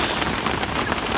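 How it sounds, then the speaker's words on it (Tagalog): Rain falling at a seaside beach, a dense, even hiss of drops pattering on surfaces all around, steady and fairly close with no break and no one speaking. "Naabot na tayo ng ulan."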